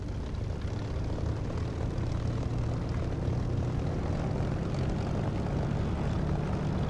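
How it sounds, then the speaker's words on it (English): A propeller aircraft engine in the DCS flight simulator runs up on throttle to about 1200–1300 RPM on a runway, a steady low droning rumble that holds constant and fairly loud without any talk. "a little bit of throttle up to about sort of 12 or 1300 RPM"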